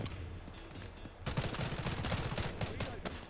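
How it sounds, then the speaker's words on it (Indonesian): Gunfire in the military shooter Delta Force Hawk Ops, a burst of rapid shots breaking out suddenly after a quieter stretch and continuing as dense, moderately loud firing with scattered sharp cracks. "Eh, ada gunshot di situ."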